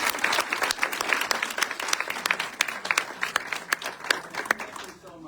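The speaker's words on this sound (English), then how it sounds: "so let's give him a round of applause." Audience applause at an in-store fashion show event, dense clapping from a crowd with sharp individual claps standing out, fairly close and gradually thinning toward the end.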